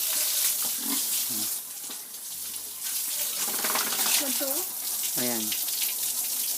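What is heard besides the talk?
pigs being washed with water after eating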